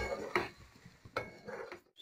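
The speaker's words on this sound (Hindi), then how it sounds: "अब इन सबको मिलाते हुए हमें थोड़ी देर और मसाले को भून लेना है" Spices are mixed and roasted in a pan for an egg curry, heard as a few sharp scrapes and clinks of a spoon against the pan over a low background, no talk.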